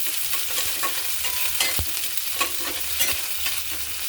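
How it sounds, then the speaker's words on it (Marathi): Chopped onion sautéing in hot oil with mustard seeds and cumin, a continuous close sizzle punctuated by short, irregular scrapes and knocks of a stirring spoon, with no talking. "कट करून घेतलेला कांदा घालू, त्याला परतून घेऊ"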